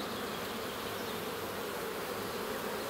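A dense, steady hum of many honeybees buzzing close by, continuous and loud with no pauses.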